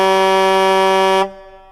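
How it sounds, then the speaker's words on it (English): A party bus horn gives one loud, steady, harmonic blast for just over a second before cutting off abruptly and fading away. "Just honking for no reason."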